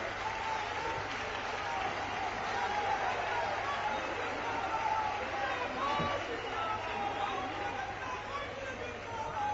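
A large crowd at an outdoor political national council meeting on a Delhi ground applauds while standing, a continuous mass of clapping mixed with crowd chatter, steady and moderately loud throughout.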